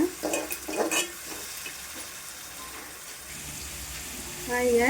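Faint sizzle of onion and tomato paste sautéing in a pan, with a few stirring scrapes and light clinks early on and a soft, steady hiss through the rest.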